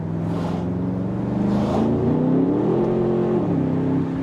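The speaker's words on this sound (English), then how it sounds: "Second you go into track mode, you hear those exhaust valves open up." A 2025 Aston Martin Vantage in track mode, exhaust valves open, revs loudly and steadily, its deep exhaust note rising and falling in pitch as it accelerates, close and continuous throughout.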